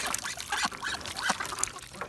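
Domestic ducks quack and honk softly while being fed, scattered calls overlapping at moderate distance with no talk.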